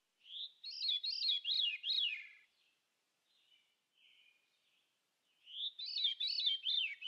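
A songbird sings clear, bright, rapidly warbling phrases in two bursts separated by a few seconds of near silence with faint soft notes, close and alone.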